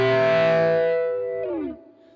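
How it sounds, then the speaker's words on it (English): An electric guitar chord rings out through two flanger effects, one fast and fluttery and one slowly sweeping, sustaining loudly and then bending down before fading out, with no talking. "you're getting that fluttery sound that I have dialed in, but I also have another flanger that's moving very slowly"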